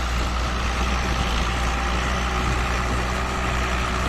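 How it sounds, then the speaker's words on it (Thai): A Ford 8210 tractor with its cab removed drags a Thai-made four-disc plough through sugarcane leaf trash, its diesel engine giving a loud, steady, close drone that holds unbroken throughout, with no voices. "รถไถฟอร์ดนะครับเจ้าตำนาน"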